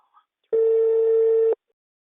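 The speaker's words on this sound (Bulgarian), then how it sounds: "Така звъни, да вдигна." A telephone rings with a single loud, steady electronic tone lasting about a second, clean and close against near silence.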